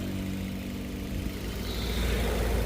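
A used car's engine idling, a loud steady low rumble close by that swells slightly toward the end, with no voices.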